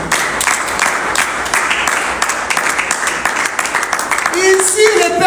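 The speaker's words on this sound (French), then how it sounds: "Est-ce qu'on peut acclamer pour la parole de Dieu?" A church congregation breaks into sustained applause, a dense wash of many hands clapping at close range, with voices rising near the end.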